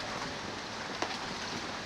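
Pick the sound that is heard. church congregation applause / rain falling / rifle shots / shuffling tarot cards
rain falling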